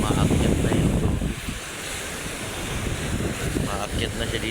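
Heavy waves strike the Manila Bay seawall in a loud surging rush mixed with strong wind buffeting the microphone. The water noise swells, eases briefly, then builds again.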